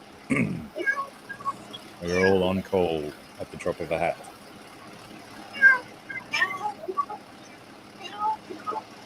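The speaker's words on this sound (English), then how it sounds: "has your cat been fed since the last time it was doing that?" A pet cat meows indoors in a busy office, giving a few loud drawn-out cries amid several people talking nearby.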